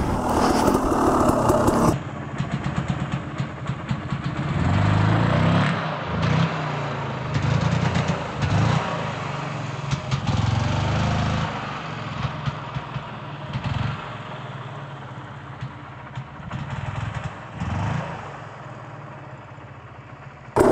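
A dirt bike engine revs and drops in uneven surges during an enduro wheelie, held on one finger of clutch and the rear brake, close and loud with wind buffeting.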